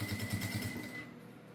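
A sewing machine stitches slowly along the fabric lining of a rosary holder, its needle thumping in a quick regular pulse for under a second before stopping, leaving a quiet room.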